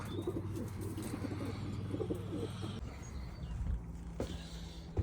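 Pigeons coo softly in a breeding loft, repeated low throaty coos with a few faint chirps, close but quiet, with light shuffling and no talking.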